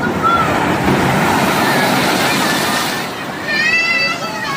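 Sea waves surge and crash against the shore in Mamburao, Occidental Mindoro after rain, a loud continuous rushing wash with a slight lull, people talking over it.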